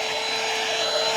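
Bissell Featherweight cordless stick vacuum running with a steady, loud whine and airy rush, alone and close.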